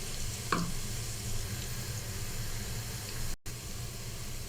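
Onions frying in a pot for chicken pilau give off a steady, close sizzle with a faint hiss, carrying on evenly for several seconds. One brief scrape near the start sounds like stirring.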